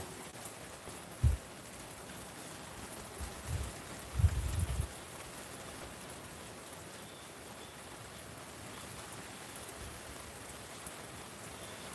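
Rain falling outdoors, a soft, steady wash of hiss throughout, faint and even, with a few brief low thumps nearby and no speech.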